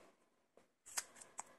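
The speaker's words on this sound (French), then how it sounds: "je vais couper un petit morceau" Scissors snip through a small piece of thick double-sided tape during pop-up birthday card crafting, a soft early cut followed by a few sharper, crisp snips close by, with no talk.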